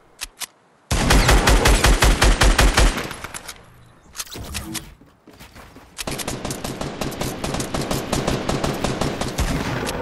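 Fortnite gunfire: rapid automatic bursts of sharp, loud shots, a long close volley, a short pause with a few scattered shots, then another sustained stream of rapid fire to the end.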